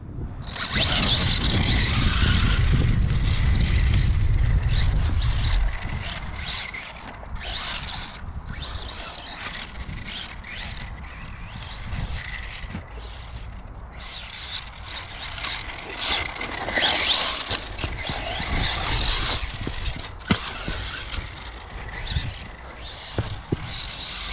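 T2M Pirate Snake RC buggy on a test run, its motor whirring and whining as it speeds up and slows, with a heavier rumble at first and then continuous buzzing passes throughout.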